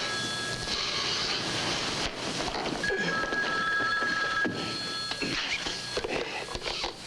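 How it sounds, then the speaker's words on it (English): An old-fashioned telephone bell rings in a vintage radio detective drama, with a steady ringing tone standing out over a busy background of score and studio noise. "It was almost 7 before that phone rang."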